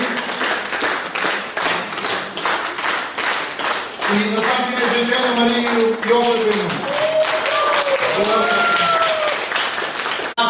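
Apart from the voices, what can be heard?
audience applause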